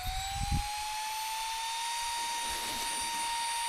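A small electric air pump inflates something through a nozzle with a steady, nearby whine whose pitch climbs slightly. A few soft thumps come at the start.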